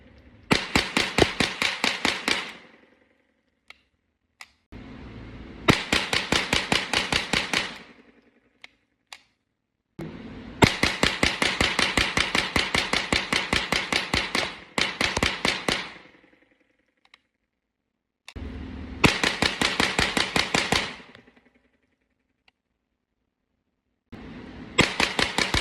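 A Ruger 10/22 rifle fires in rapid strings of sharp, loud cracks, each burst packing many quick shots before a pause, repeated several times with short silences between and no talking.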